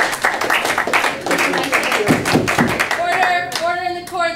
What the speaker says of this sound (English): There is no clapping in the court